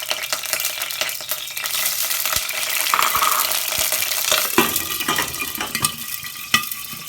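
Oil sizzles and fries in a pot set over a fire while a utensil stirs and scrapes against the metal, with light clinks throughout.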